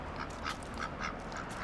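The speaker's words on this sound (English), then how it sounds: "That's the sound of a duck." A duck quacking in El Sereno, Los Angeles, a series of about six evenly spaced nasal quacks, moderately close and heard alone.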